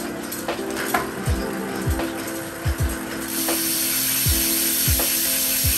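A bicycle crank on a Tarmac SL7 Comp with a SRAM bottom bracket and oversized pulley wheel system is spun, giving a close mechanical whir and ticking with repeated sliding, swooping clunks as it rotates.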